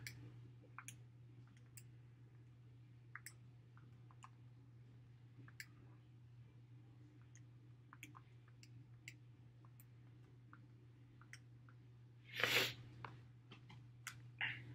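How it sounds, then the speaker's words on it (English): Small button presses on a handheld graphing calculator, close and quiet, come as sparse irregular clicks over a steady low hum, with one louder rustle near the end. "Now let me type that in on the calculator"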